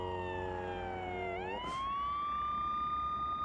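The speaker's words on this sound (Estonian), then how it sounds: "Nüüd oli politseiauto." A police siren wails steadily, its pitch sliding down and then climbing back up, heard at moderate distance over a low rumble of traffic.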